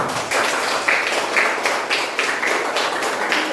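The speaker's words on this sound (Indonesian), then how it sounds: "Tepuk tangan untuk kita semua." A classroom of students applauding together, dense continuous clapping heard close and fairly loud, with a few sharper claps standing out.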